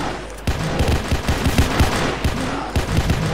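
Video game gunfire crackles in rapid bursts of sharp shots, loud and close, with short gaps between volleys and a steady background din behind them.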